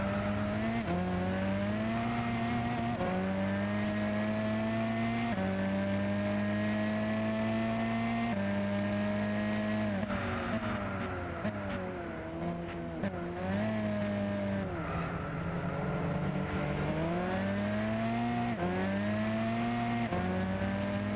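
A race car in Gran Turismo 6 drives continuously, its engine droning loud and close, rising and falling through gear shifts and revs with no talk over it.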